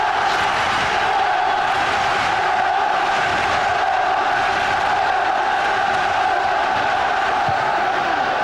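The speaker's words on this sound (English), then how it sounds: "The Villa crowd try to lift their players for one last final push perhaps" Aston Villa supporters at a football match roar and chant together, a massive sustained wall of crowd noise carrying from the stands without letup, loud and distant-sounding.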